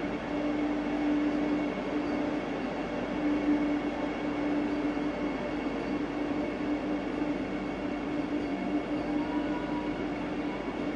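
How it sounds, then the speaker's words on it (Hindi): A Vande Bharat Express, the ninth of its kind, runs on the Mumbai–Solapur route with a steady rumble and hum from inside the carriages. The sound holds even and unbroken throughout, with no voices. "यात्री इस 9वीं वंदे भारत एक्सप्रेस में यात्रा कर रहे हैं"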